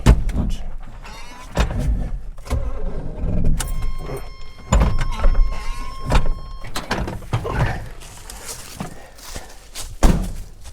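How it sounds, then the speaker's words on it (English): A Rock Bouncer off-road vehicle with a manual transmission, hooked to a jump box, cranks over slowly and laboriously with a rhythmic, dragging starter whir. Thunks and brief talk sound close by. "Why is it cranking over so slow?"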